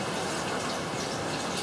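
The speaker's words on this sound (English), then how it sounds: "you can really add water" Water pours steadily into a cooking pot of soupy stew, a soft continuous gushing stream with no talk over it.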